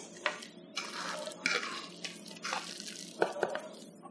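Moretum, a herb and cheese paste, being stirred again after a splash of vinegar: soft, wet, sloshy mixing strokes with a few sharper clicks, close and fairly quiet, no talking.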